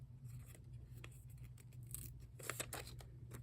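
Scissors snip through paper while trimming a piece for a budget journal page, a few close, crisp cuts scattered over a low steady hum, with no voices.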